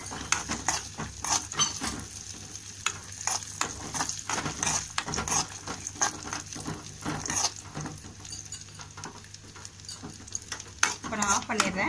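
Raisins frying and being stirred in a pan for bottle gourd payasam, giving a steady close sizzle with repeated scraping and clinking strokes of a spoon against the metal pan throughout.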